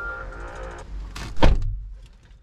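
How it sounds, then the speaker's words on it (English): A car's driver's door is opened and shut during a spare remote key setup, with a soft electronic hum and chime followed by a solid thud of the door closing up close, then fading quiet. "Open and close the driver's door."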